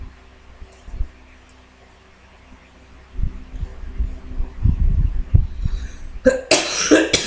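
A person coughs a few times close to the microphone, set off by a fan, muffled at first and then harsher and louder toward the end.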